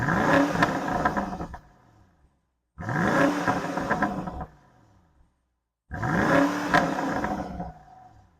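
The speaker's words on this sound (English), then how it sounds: "let's go ahead and hear what this exhaust sounds like" Three loud engine revs from the 4.4-liter twin-turbo V8 exhaust of a 2020 BMW X5 M50i, each a deep rising roar lasting about two seconds, separated by brief quiet gaps.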